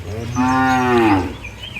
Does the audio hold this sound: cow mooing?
yes